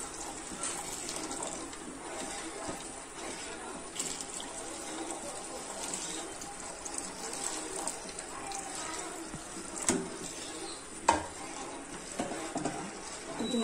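Water running and splashing into a pot of caramel semiya payasam cooked with milk, then stirred in; a continuous close pour with scattered clinks and a louder knock near the end, no talking.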